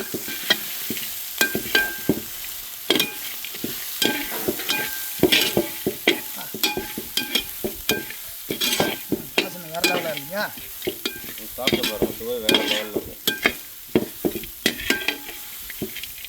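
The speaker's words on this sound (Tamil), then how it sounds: "நம்ம வறுத்து வச்சுக்கிற சோளம் வேறு லெவலுங்க ஐயா" Corn kernels frying and being stirred in a pan for a spicy, crispy corn snack, with steady sizzling broken by repeated sharp scraping and clattering strokes, close and fairly loud, with no voices.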